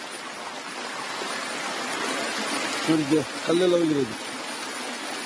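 Floodwater from a breached tank rushes through a coffee plantation in Chikkamagaluru, a steady broadband roar filling the whole stretch while someone speaks briefly over it.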